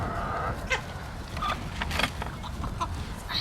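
Chickens clucking in a short burst of calls over a steady background hiss, several brief clucks scattered across a few seconds at moderate distance.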